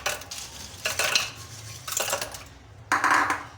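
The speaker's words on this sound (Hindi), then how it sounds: "इसमें थोड़ी सी मज़ीद और बर्फ़ डालेंगे" Ice goes into salted Punjabi lassi in several bursts of clinking and rattling, each a second or so long, heard up close with no talking.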